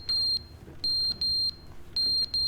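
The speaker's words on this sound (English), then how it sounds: "Fire alarm." Fire alarm in the video game The Stanley Parable: loud, repeated high electronic beeps in three bursts, each with two or three quick pulses, over a low background hum.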